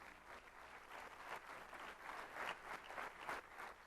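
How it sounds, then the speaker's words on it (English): Audience at a motivational keynote clapping steadily, a dense, moderately distant wash of many hands with no voices over it. "You can clap for that."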